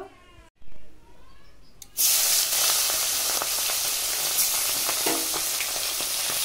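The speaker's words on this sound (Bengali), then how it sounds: "ট্যাংরা মাছ ভেজে নেব।" Tengra fish drop into hot mustard oil in a wok and fry with a sudden, loud, steady sizzle that continues evenly, preceded by brief handling noises.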